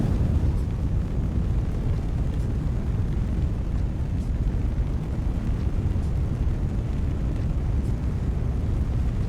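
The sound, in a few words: rocket explosion in video game Kerbal Space Program 2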